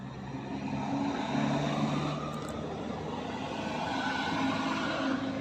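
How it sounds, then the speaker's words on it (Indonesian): Motorbikes and cars pass along a road beside a pine forest, a soft steady traffic hum with gentle swells as vehicles go by at a distance, no voices over it. "Terlihat beberapa kendaraan sedang melintas, entah itu roda 2 ataupun roda 4."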